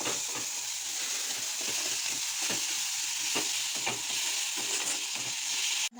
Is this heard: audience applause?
no